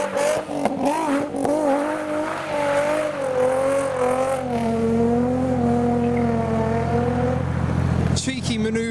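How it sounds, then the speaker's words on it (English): A Rocket Bunny Nissan 350Z pulls away from a classic car meet on a cold morning with a Mustang behind it, engines droning loudly as the pitch rises and falls, while someone talks over them. "And finally we have the Rocket Bunny 350Z leaving with a Mustang behind him."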